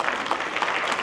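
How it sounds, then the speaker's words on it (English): An audience at a community chamber of commerce awards dinner claps in a brief, dense burst of steady applause that fills the room evenly. "So please give him a big round of applause."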